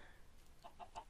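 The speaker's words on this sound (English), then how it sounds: "Chickens, you give me feathers." Chickens in a video game give three quick, faint clucks near the end, low in the mix over a soft background.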